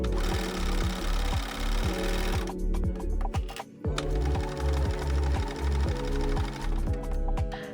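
A sewing machine stitching a shirt seam slowly, close and loud, its needle thumping in a steady mechanical rhythm that pauses briefly midway as the presser foot is lifted, then resumes at the same measured pace.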